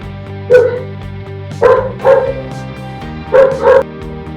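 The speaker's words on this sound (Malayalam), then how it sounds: "അതില് ഡോഗ്സ് ഉണ്ട് അതിനെ അത് കൂട്ടിയിട്ടേക്കാണ്" Tied-up dogs barking loudly nearby in short bursts: one bark, a double bark, a pause, then another pair, with a steady hum underneath.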